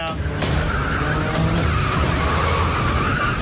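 A car corners at high speed, its tires squealing and skidding under a loud, continuous engine and road roar, with a person talking over it.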